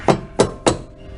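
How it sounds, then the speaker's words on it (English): A hammer strikes three quick, sharp metallic taps to drive a bolt out of a lower ball joint on a 1997 Ford Thunderbird, close and loud, with a short fade after the last blow. "Bolt should just tap right out of there,"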